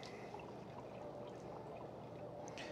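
Water draining out of a BougeRV portable propane outdoor camping water heater, a faint, steady trickling pour running continuously with a few soft drips near the end, no voices.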